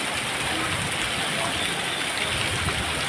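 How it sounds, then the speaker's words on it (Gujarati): A heavy downpour drums steadily over Keshod streets, a constant, close wash of falling water with no let-up. "જો ફરી કેશોદની અંદર ધોધમાર વરસાદ ચાલુ થઈ ગયો"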